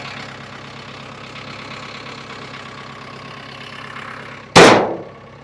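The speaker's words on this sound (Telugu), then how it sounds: "ఇంజనే మొత్తం ఇంజన్ సౌండే." A JCB excavator's diesel engine idles with a steady low rumble and hum that holds evenly throughout, then a single sharp loud bang or knock cuts in near the end before fading.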